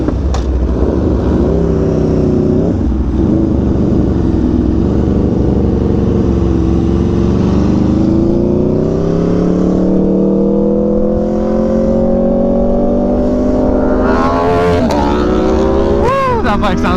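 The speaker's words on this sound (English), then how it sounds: "that bike sounds good" Aprilia RSV4 Factory motorcycle engine revving loudly and continuously, its pitch climbing and falling in long sweeps with a sharp rise near the end, close by.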